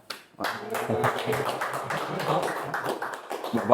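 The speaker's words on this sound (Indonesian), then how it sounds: "Kita boleh beri tepuk tangan ya" Audience clapping during a church podcast recording, a modest group's applause starting after a short pause and continuing steadily at moderate level, with voices mixed in.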